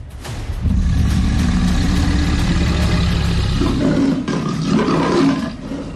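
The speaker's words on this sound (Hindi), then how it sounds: "एक बाघ की दहाड़" A Royal Bengal tiger lets out a long, loud, deep roar that swells after a brief quiet start and holds for several seconds, close and alone with no talk.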